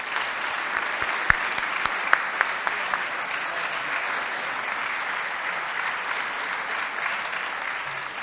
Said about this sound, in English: Let's give John Barrett another round of applause.